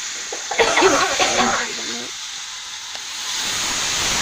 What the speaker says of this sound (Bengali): তো আলু ভাজছি আমি এবার